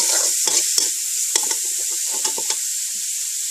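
Pork and mixed vegetables are stir-fried in an Isan-style home kitchen: a constant bright sizzle with several sharp spatula scrapes and knocks against the pan, close and steady, with no talking.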